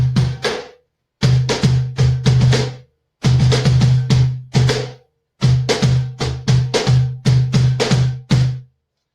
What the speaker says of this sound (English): But a cajon can sound like this.